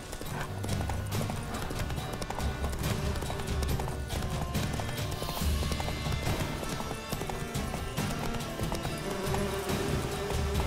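Roach the horse galloping in The Witcher 3, a fast steady clip-clop of hooves pounding continuously over ambient game sound, loud and close.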